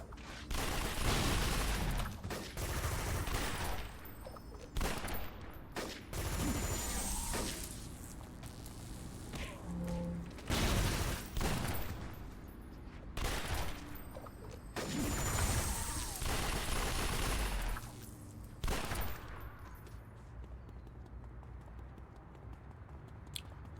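Bullets fire in a video game in loud, rapid volleys. Several long bursts of gunfire are broken by short gaps, and the shooting fades off toward the end.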